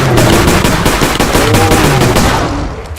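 Rapid automatic gunfire in the Bigfoot video game rattles out loud and close in an unbroken burst for about three seconds, then fades slightly at the end, with no voices.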